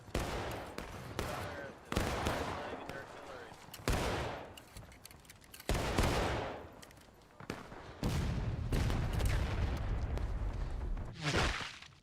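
Massed musket and cannon fire in the American Civil War video game War of Rights, with volleys and booming blasts crackling in close succession, near and loud, under intermittent talk.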